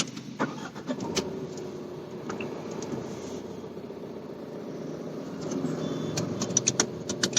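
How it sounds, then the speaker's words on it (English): A Tata Altroz XZ diesel hatchback cranks into life and settles into a steady idle, its low diesel rumble faint and even as heard from inside the cabin, with a few clicks scattered over it. "first let's just start the engine to judge the NVH"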